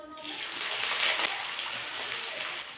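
Chopped onions sizzle in hot mustard oil with bay leaf, cooking for ghugni; a steady, close, hissing crackle that swells briefly and then holds evenly.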